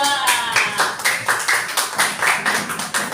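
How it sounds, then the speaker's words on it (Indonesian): A classroom of children gives rhythmic, rapid applause for a student group in a fourth-grade lesson, steady and close with clear repeated claps throughout. "tepuk tangan dulu buat kelompok 2"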